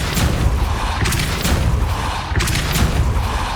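Depulso spell blasts fired in Hogwarts Legacy, a series of heavy, close booming thumps, about three distinct impacts over a dense, loud rumbling background.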